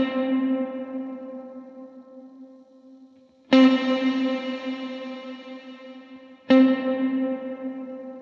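A guitar played through the dynamic plate reverb on a Line 6 Helix: three struck chords, each ringing out into a long, smooth reverb tail that slowly decays. No one speaks.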